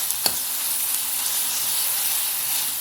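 Ginger garlic paste fries with onions and green chillies in a pan, giving a steady close hissing sizzle throughout, marked by one sharp tick near the start and no voices.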